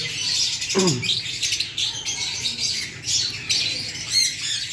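Female violet Fischer's lovebird squawking and chirping as it is put into a bag, sharp repeated calls close by with rustling of the bag.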